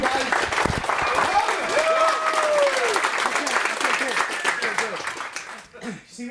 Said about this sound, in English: I just created my own standing ovation.